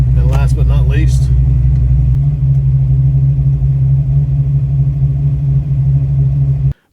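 A Fox Body Mustang fitted with FlowMaster 40 mufflers rumbles at a steady, loud idle, a deep continuous exhaust drone heard up close, with a voice talking briefly over the start.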